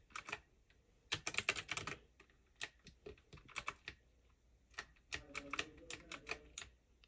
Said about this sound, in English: This is my keyboard.